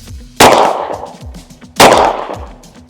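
Two loud, sharp unsuppressed rifle shots about a second and a half apart, each followed by a rolling outdoor echo.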